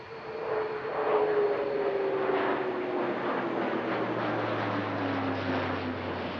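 An Airbus A400M four-engine turboprop military transport at the Paris-Villaroche airshow, a loud close propeller drone with a descending tone sweeping past like a flyby, no voices.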